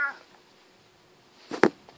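A cat gives a short, faint meow at the start, then a louder, sharp meow with a quick, close burst about a second and a half later, with near silence between them.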